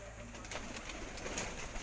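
Pigeon cooing in a racing-pigeon setting, the homing birds returning to the loft in Gujrat; soft repeated coos sit over a steady outdoor hum at a low, distant level, with no speech.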